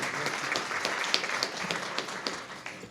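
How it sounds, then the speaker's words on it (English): Audience applause at a Tiger Bay legislative luncheon, steady moderate clapping from a room of listeners with a few sharper individual claps standing out, sustained throughout. "Please give them a round of applause."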